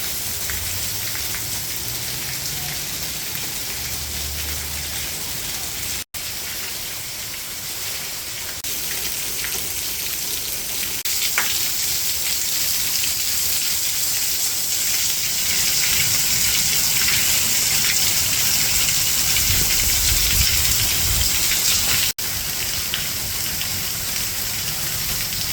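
Heavy hurricane rain pours steadily outside in Florida, a loud, dense, continuous roar of downpour with rushing water, sustained throughout with no talking.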